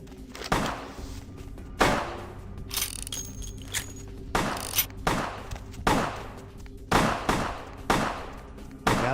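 Gunfire in Vampire: The Masquerade Bloodlines, a string of loud, punchy shots fired at irregular intervals, each with a short decaying tail, over a low game ambience with a brief tonal chime in the middle.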